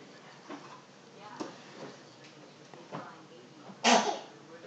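One sharp sneeze bursts out near the end, preceded by soft indoor rustling and faint breathy sounds during a makeup session.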